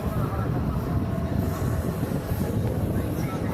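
Steady low rumble of a moving train on the rails, heard from a window seat inside a carriage, continuous and fairly loud throughout with no talk over it.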